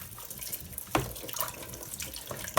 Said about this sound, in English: So this is what washing dishes in the winter cabin looks like.